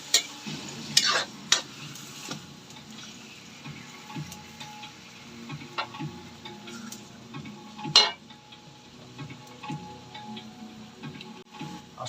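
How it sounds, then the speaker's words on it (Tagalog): Food being stirred as it fries in a pan, with a soft ongoing sizzle under scattered scrapes and clinks of a utensil against the pan, close and fairly quiet, no talking. "Mikos-mikos lang natin."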